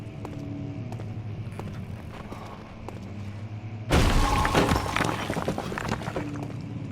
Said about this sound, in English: Now we're smashing walls.